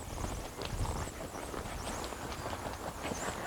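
Hooves of a Tennessee Walking Horse being ridden at a warm-up pace give a soft, rapid, uneven patter over a noisy, windy background.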